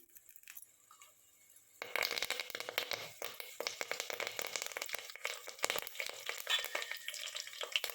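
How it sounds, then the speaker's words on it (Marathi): Onions sizzle and crackle in a hot pan for veg biryani, starting quiet then bursting into steady loud frying with scraping stirs after a couple of seconds, continuing without talk. "कांदा चांगला खरपूस भाजलेला आहे"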